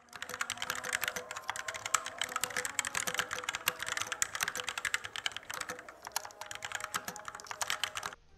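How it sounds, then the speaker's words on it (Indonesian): Rapid, continuous clacking of a Fantech Maxfit 108 mechanical keyboard, close and crisp, with dense keystrokes and brief pauses, no voices. "ini suara dari keyboard Funkek Max Fix 108"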